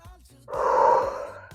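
One sharp, breathy inhalation taken during an abdominal exercise, close and moderately loud, rising quickly and sustained for about a second after a faint short breath.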